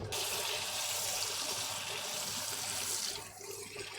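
A schnitzel fries in a hot pan on a stove turned up to setting 9, giving a loud, steady, hissing sizzle with constant spattering that holds for several seconds before easing slightly near the end.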